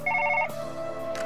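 Telephone ringing in the video game Surgeon Simulator: a short double-burst electronic ring, fairly close and clear, that cuts off abruptly, followed by a faint low hum.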